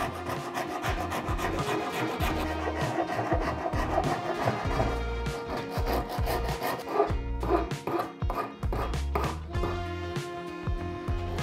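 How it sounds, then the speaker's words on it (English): A Shinto rasp shapes the live edge of a wooden serving board, giving a steady, loud scraping rasp in repeated strokes that run throughout, close up and with no talking. "Another good thing is a Shinto rasp. This has a rough side and a smoother side, and you can make quick work of shaping with this thing."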